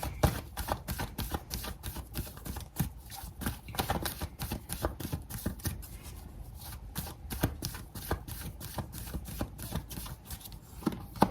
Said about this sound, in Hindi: कार्ड्स निकाल रही हूँ, सो थोड़ा सा टाइम लगेगा।